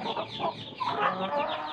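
Several chickens cluck steadily and overlap one another, close by, forming a continuous busy farmyard chatter with no talking.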